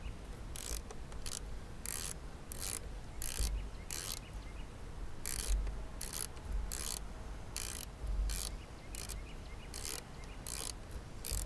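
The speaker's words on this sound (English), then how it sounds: "It's a socket and ratcheting wrench." A socket and ratcheting wrench tightens a fitting on a jon boat build with a quick, repeated ratcheting click. The bursts come in short, fairly even strokes, close and clear, with no talking.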